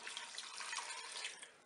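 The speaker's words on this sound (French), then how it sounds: "Je vais rajouter donc mon bouillon composé de 200 ml d'eau et d'un cube de bouillon de bœuf émietté." Beef broth made from water and a crumbled stock cube pours into a Cookeo multicooker as a steady, soft splashing stream lasting under two seconds, fairly quiet and heard alone.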